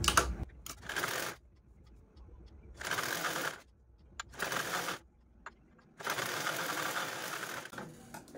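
A sewing machine stitches fabric for a baby bunny cap in four separate bursts of fast, rattling whirring, each lasting about a second, with quiet pauses between them.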